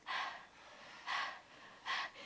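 A person's breathy, voiced exhalations imitate panting, three separate hissing breaths about a second apart, close and fairly quiet with no words.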